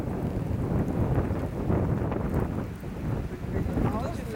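Strong wind gusts across a snowshoe trail in the mountains during light snowfall, roaring and buffeting the microphone continuously with a low rumble and no pauses.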